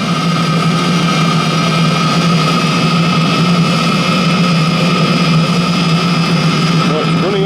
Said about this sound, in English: Right, it's running up nicely, getting up the temperature.